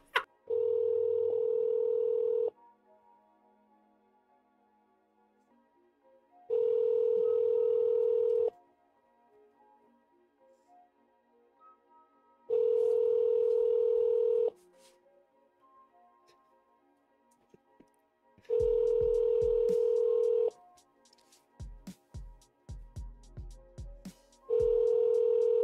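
A phone call rings through the earpiece as a series of long ringback tones separated by silent pauses, followed by clicks and line noise as it switches over to voicemail.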